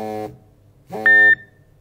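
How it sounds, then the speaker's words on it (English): A Solo Protect Identicom lone worker device in its pre-alarm phase emits short electronic tones, with a clear, sharp single beep ringing out after a lower buzzy tone. "Identicom will vibrate and beep intermittently to attempt to gain a user's attention."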